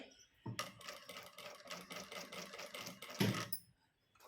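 A sewing machine stitches a cut-work sleeve on lining fabric, its needle running in a steady rapid rhythm for about three seconds before stopping, close and fairly quiet with no talking.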